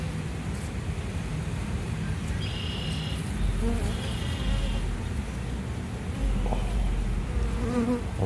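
A really big swarm of bees buzzing loudly and steadily throughout, a dense continuous drone with some higher whining passes from individual bees close by, no talking.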